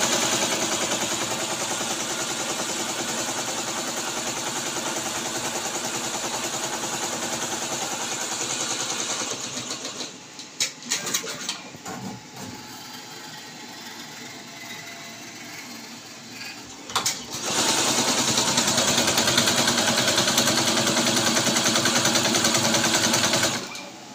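A computerized embroidery machine stitches a cut work saree design with a fast, steady mechanical chatter. It drops to quieter, intermittent clicking partway through, then resumes its rapid stitching at close range.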